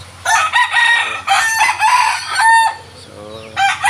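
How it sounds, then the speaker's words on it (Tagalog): Several fighting roosters crow loudly one after another, long drawn-out calls overlapping at close range with a few clucks in between. "Tapos itong mga manok na lalaki,"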